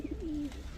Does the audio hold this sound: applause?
no